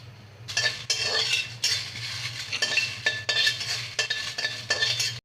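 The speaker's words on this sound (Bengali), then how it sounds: "আর মশলাগুলো ভাজে নেব তেল ছাড়া" Spices for a winter olive pickle are dry-roasted in a pan without oil, with repeated scraping strokes of a spatula against the metal in an uneven rhythm, close and alone.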